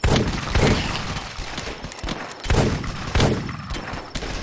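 Rapid gunfire in The Last Stand video game, loud bursts of shots cracking in quick clusters with short pauses between volleys.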